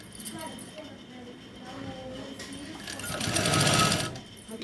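A tailoring sewing machine stitches a neck hem strip, its fast mechanical whirr swelling in one close burst near the end, while someone talks over it.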